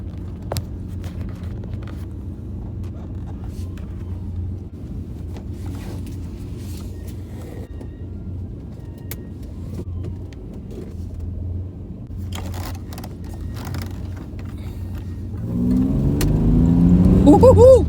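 1988 Pontiac Fiero GT on a test drive after a tune-up, a steady low engine rumble while cruising that swells into louder revving acceleration near the end.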